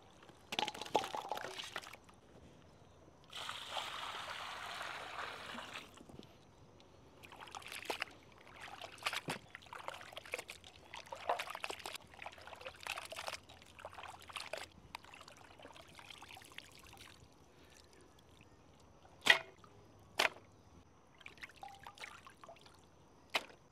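Chicken pieces are washed under poured water, with quiet intermittent splashes and trickles separated by pauses, plus a few sharp clinks of a vessel.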